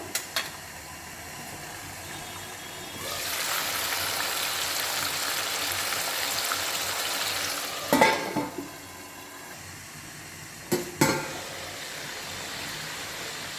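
Chicken liver and heart frying in oil give a steady soft sizzle that rises partway through. A few sharp clinks of utensils against the pan cut in, and the whole scene is fairly quiet with no talking.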